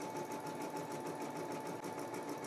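A Brother embroidery machine stitches text steadily, a continuous close whirring hum with fast needle rhythm and no pauses.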